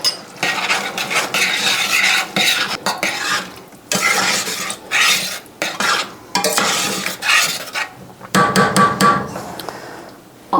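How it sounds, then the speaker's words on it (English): A spoon stirs keto Italian meat sauce in a pot with steady scraping and clanking against the metal, plus a faint sizzle underneath. The strokes come in uneven bursts with brief pauses between them. "And then I'm going to give it a stir."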